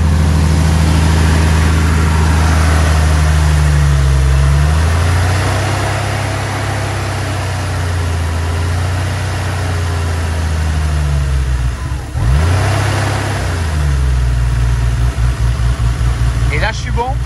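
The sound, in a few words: Porsche 993 engine idling unevenly at high idle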